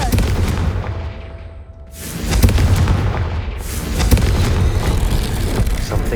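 A Confringo fire spell bursts in Hogwarts Legacy, a loud booming blast with rumbling low-end impact, followed by a second surge of crackling, sustained explosive noise.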